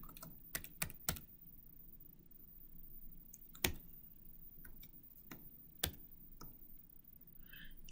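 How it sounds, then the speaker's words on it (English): An equation is typed on a computer keyboard: sparse, quiet key clicks at irregular intervals in a hushed room, with a few sharper taps standing out. "I'm going to type in this equation right here."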